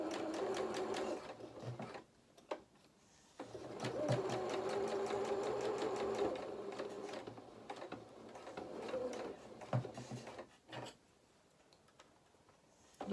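A sewing machine stitching a narrow seam on a donkey head soft toy, running in rapid mechanical bursts with short pauses in between, close and fairly loud.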